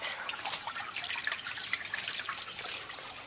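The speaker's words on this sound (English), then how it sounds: "that's the river." A river trickles and splashes softly at a campsite, a faint, continuous watery babble with small bright drips.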